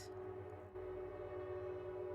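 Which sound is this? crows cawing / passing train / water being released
passing train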